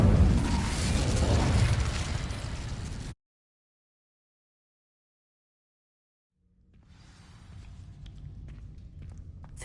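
Incendio fire spell igniting dry vines in Hogwarts Legacy, a loud whooshing burst of flame and crackle that cuts to silence, then a low rumbling return of fire and ambience.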